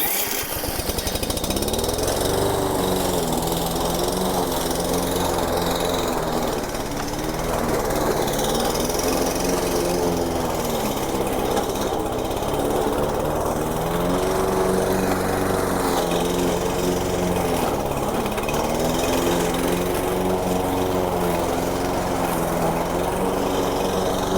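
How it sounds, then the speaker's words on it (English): A Toro 21464 walk-behind mower drones steadily and loudly while cutting grass, its engine pitch dipping and recovering in repeated cycles as it moves back and forth. "Let's keep mowing."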